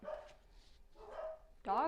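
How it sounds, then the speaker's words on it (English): Dogs barking in three short bursts, faint and some distance off, with the last bark the loudest and closest. "dogs are barking"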